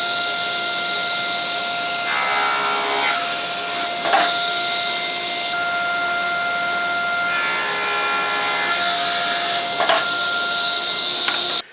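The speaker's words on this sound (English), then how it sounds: "Now we're going to cut it to length so that we can make a triangle out of it." A table saw cutting wood to length for a jig: a loud, steady motor whine runs throughout, and two drawn-out, higher-pitched cutting passes rise over it as the blade goes through the board.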